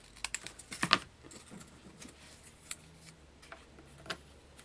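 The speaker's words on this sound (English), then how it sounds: "fold it in half for the leaf, and just kind of cut a leaf out" Scissors snip freehand through a folded piece of paper to cut out a leaf shape for a handmade Valentine's card, giving a quick cluster of close, crisp clicks followed by a few lighter, scattered snips.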